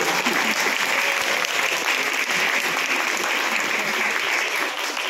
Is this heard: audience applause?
yes